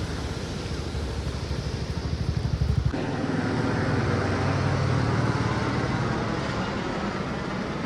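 A pilgrimage helicopter flying in the Himalayan valley between Ghangaria and Govindghat: its rotor thumps rhythmically at first, then gives way to a steady engine roar as it flies past, fairly loud and continuous.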